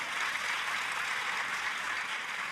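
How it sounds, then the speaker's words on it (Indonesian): Congregation applauding loudly during a church sermon, a steady, even wash of many hands clapping throughout, fairly distant and without talk over it. "Tepuk tangannya boleh yang paling keras."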